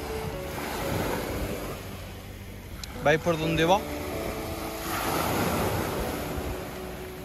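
Surf rolls onto a beach during a surfcasting session, a steady broadband wash with gusts of wind buffeting the microphone; someone speaks briefly over the waves partway through.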